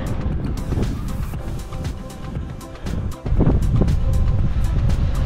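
Strong wind roars and buffets the microphone steadily on a climb toward a summit, with a louder gust surging partway through.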